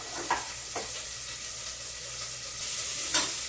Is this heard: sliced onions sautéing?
yes